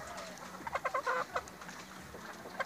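A rooster clucks in a short burst of several quick, close calls, then a faint call again near the end over quiet outdoor background.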